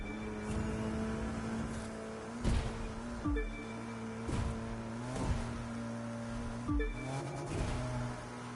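A car is driven in the racing video game The Crew 2, its engine holding a steady droning tone broken by several sharp revs and gear-shift surges.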